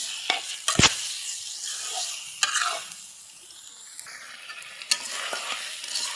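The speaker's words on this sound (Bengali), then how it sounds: "এখানে পেঁয়াজ ভাজা নিচ্ছি আর পাতাকপি এই সাইডে হয়ে গেছে" Onions frying in a pan beside cabbage and chicken feet, a steady hiss with a few sharp stirring clinks and scrapes, close and moderately loud, with no voices.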